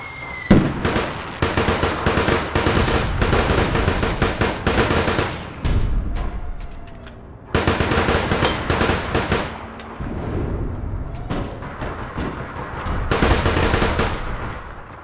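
Loud bursts of automatic gunfire in the video game APB Reloaded rattle in repeated volleys of rapid shots, separated by short pauses, close and dominant.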